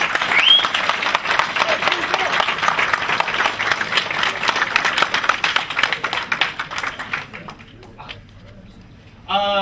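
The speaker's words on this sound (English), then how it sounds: "give yourself a round of applause" Audience applause at a fan forum Q&A: a large crowd claps steadily and loudly for several seconds, then it thins out and fades before a final short burst.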